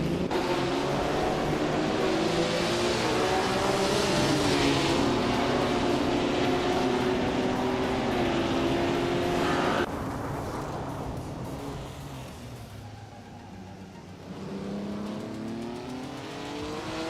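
Race cars scream around a track in a racing video game, engines revving high and shifting pitch as they chase each other, loud at first then dropping away.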